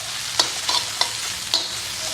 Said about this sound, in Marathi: असे बारीक कापलेले बटाटे असे ऍड करायचे आपल्याला मिक्स मिक्स मिक्स